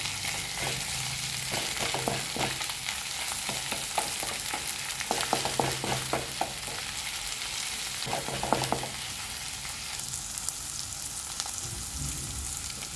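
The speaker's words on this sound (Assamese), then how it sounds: "এক মিনিট ফ্ৰাই কৰাৰ পাছত ইয়াতে বিলাহী দিলোঁ এইখিনিও ভালদৰে ফ্ৰাই কৰিম।" Tomatoes frying in a pan and being stirred for a Sunday dinner, a steady close sizzle broken by clusters of spatula scrapes and clatter, with no voices.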